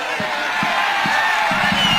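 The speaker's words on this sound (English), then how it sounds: "the crowd enjoys that moment" Soccer stadium crowd in Toronto cheering after a free kick, a loud continuous roar filling the space with faint thuds beneath, steady throughout.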